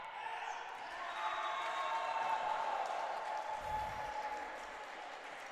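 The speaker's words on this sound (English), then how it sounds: "To the cheers from the Holland College Hurricanes women's team" Crowd cheering and applause from the Holland College Hurricanes women's team in a gym at a men's college volleyball match, a steady broad roar that swells in the middle and eases toward the end, with a faint ball thump.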